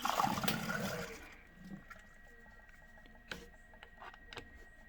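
A PC water cooling pump, a TT unit, starts filling the loop with coolant: a loud gurgling, splashing rush of liquid for the first second or so, easing to quieter trickles and a steady hum with a few small clicks.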